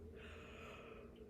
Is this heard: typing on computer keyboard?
no